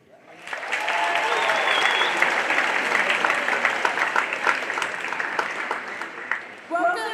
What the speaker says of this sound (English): They're going to clap for everything